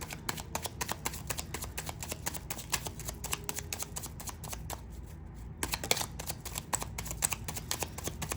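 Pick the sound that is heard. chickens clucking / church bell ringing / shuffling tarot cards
shuffling tarot cards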